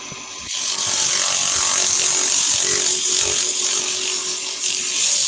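Steady, loud abrasive whirring of sanding on a wooden model galleon, continuous and close after a brief quieter start, with no talk.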